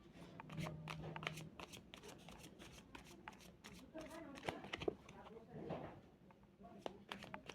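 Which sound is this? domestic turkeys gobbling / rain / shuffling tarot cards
shuffling tarot cards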